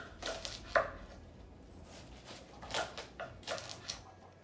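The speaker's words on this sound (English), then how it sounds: "We cut it in a big slices." A knife slices through a watermelon, cutting it into big pieces, with a few distinct crunchy chops spaced across a quiet kitchen, the loudest near the start and a cluster toward the end.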